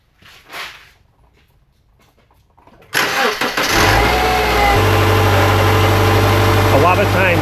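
A 2005-2012 Subaru with P0028/P0026 camshaft timing fault codes cranks, fires up and settles into a loud, steady idle after a few seconds of near silence.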